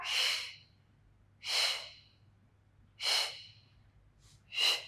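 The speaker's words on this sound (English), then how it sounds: "Breathe out." Forceful exhalations during a beginner Pilates abs workout, four breathy whooshes spaced about every one and a half seconds, close to the microphone over a faint low hum.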